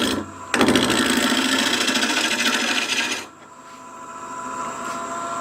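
Stabilized wood being turned on a lathe gives a loud, steady broadband scraping rasp of the tool cutting for about three seconds, then drops abruptly to a quieter background hum.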